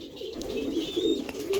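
Number 88, a Dubai pigeon, gives a close, soft, throaty coo that rises and falls in a short rolling phrase over light background noise.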